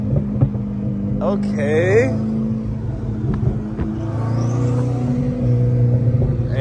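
A modified C8 Corvette engine rumbles and revs nearby with sharp bursts and pops, under loud chatter and shouting from people close by.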